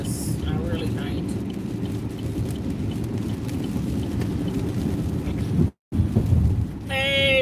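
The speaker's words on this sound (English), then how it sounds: "I can't believe it's raining like this" Heavy rain pours steadily in New Orleans, a loud, constant wash with low rumbling beneath, while a person talks over it.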